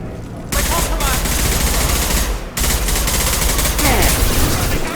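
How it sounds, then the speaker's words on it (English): Sustained bursts of automatic gunfire rattle through a firefight in Mass Effect 2, loud and dense, broken by a short pause before resuming with continuous shooting. "Blue Suns and Orchard shooting anything that moves."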